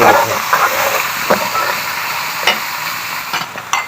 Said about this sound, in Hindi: ये हमने आलू ऐड कर दिए, इसको हम अच्छे तरीके से मिक्स कर लेंगे